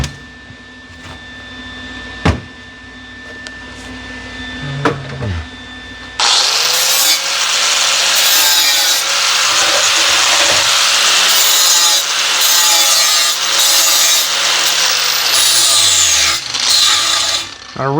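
Metal grinding on a Corvair engine's turkey roaster, with a few clanks and handling knocks before a loud, continuous, close grinding roar starts and holds for the rest of the clip.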